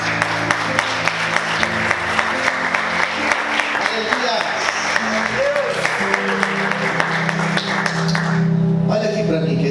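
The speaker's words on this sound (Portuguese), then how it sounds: "Quantos podem aplaudir Jesus?" A church congregation claps continuously and loudly, a dense wash of applause with a few voices mixed in, fading slightly toward the end.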